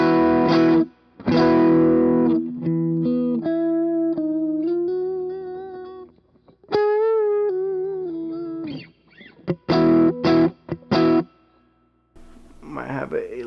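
Electric guitar played through a KTR overdrive pedal on a pedalboard at a clean-ish setting, a run of sustained notes and short chordal stabs with gaps between phrases, loud and close, with a brief breathy noise at the end.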